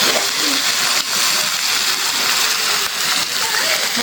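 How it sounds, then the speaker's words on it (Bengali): Water poured into a pan of chicken curry cooked with yogurt and a little sugar, giving a steady, close splashing gush that runs throughout with brief dips, no talk over it. "এখন অল্প একটু পানি দিয়ে দিই।"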